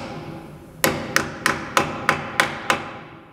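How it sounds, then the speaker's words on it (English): Seven sharp, evenly spaced hammer strikes close up, driving a clip-on wheel weight with a large claw onto the rim of an aluminum wheel during road force balancing, each blow ringing briefly with no talk. "I'm going to hammer this on."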